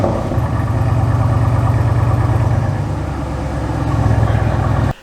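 Jeep engine with a newly installed exhaust runs at a steady idle, a loud, close, continuous low rumble throughout, swelling slightly near the end before stopping.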